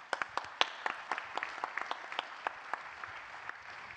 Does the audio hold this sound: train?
no